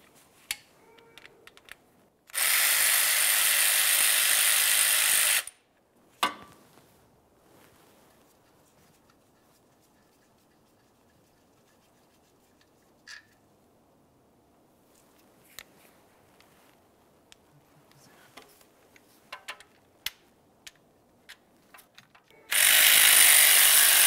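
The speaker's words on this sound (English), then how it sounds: "we're going to continue on to removing a 10 millimeter headed bolt down along the bottom of this shield" A 10 mm headed bolt and nut come off the lower shield of a 2009-2019 Ford Flex during a crankshaft position sensor job. Two loud, steady bursts of power-tool whirring stand apart, with scattered quiet clicks and clunks between them.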